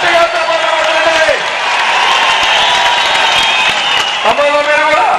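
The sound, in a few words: crowd applause at political speech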